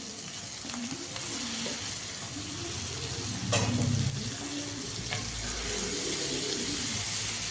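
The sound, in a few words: stirring kolukattai dumplings in a hot pan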